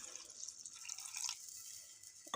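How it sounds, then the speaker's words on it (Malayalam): Water is poured into a pan of simmering tomato curry, giving a steady close hiss with light dripping and splashing that lasts about two seconds. "നമുക്ക് കുറച്ച് വെള്ളം ഒഴിച്ചു കൊടുക്കാം"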